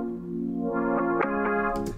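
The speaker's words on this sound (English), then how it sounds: "hit reverse, and it now sounds like this." Reversed synth pad chords swelling in a short phrase, stacked sustained tones that shift chord a few times and rise in brightness before cutting off, played alone without voices.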